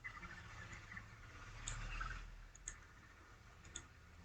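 Computer mouse clicks, a few soft, sparse single clicks spaced about a second apart over a faint steady background hum.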